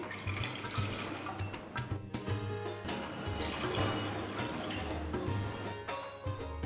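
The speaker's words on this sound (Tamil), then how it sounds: "சாஸ்பேனில் 3 கப் தண்ணி ஊற்றி" Water pouring into a saucepan while making sugar syrup for Arcot makkan peda, a steady splashing flow running throughout at moderate level with brief dips, no talking.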